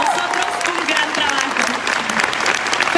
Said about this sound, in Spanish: Un aplauso y agradecimiento a todos ustedes.